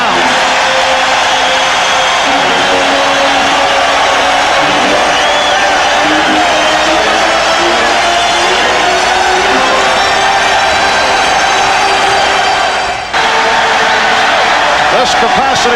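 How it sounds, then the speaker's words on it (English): A capacity arena crowd at Game 5 of the 1993 NBA Eastern Conference Finals, Bulls versus Knicks, roars loudly and steadily for the full stretch, a dense wall of cheering with commentators' voices running underneath. "This capacity crowd reacting to the Knicks moving within 2."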